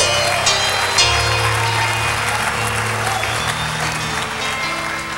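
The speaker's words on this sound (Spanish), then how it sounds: "Dale un aplauso a Cristo, hermano." A church congregation applauds for Christ at an evangelical service, dense clapping filling the room from start to end, with low sustained tones humming beneath and faint voices mixed in.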